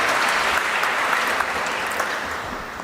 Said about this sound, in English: Please put your hands together and welcome with a big round of applause